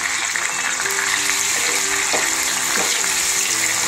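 Chopped orange frying with ginger and green chilli in a pan for an apple and orange pickle, a steady, dense sizzle with watery hiss and faint tonal sounds underneath throughout.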